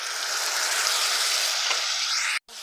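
Spices going into browned onions in a hot pan, producing a loud, bright sizzle that holds steady for a couple of seconds before breaking off abruptly.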